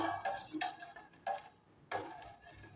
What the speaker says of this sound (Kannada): ಇದನ್ನೆಲ್ಲ ಒಂದ್ಸಲ ನೀಟಾಗಿ ಮಿಕ್ಸ್ ಮಾಡ್ಕೊತಾ ಇದ್ದೀನಿ